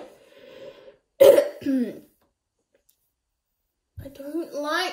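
A single short cough bursts out between stretches of talk, with a brief pause of silence before voices resume.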